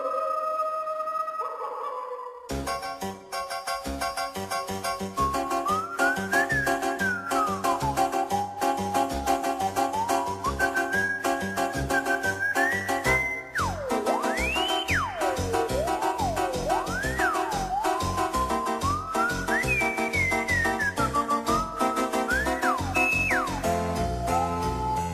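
A sliding, wavering whistled melody threads over a dense, loud musical score, sustained throughout.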